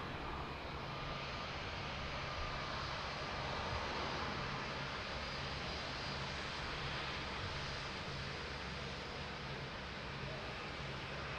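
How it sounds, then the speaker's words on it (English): Airplane landing on the runway at Lisbon Airport, a steady, distant broadband engine roar with no distinct peaks, holding even throughout. "What a nice butter landing."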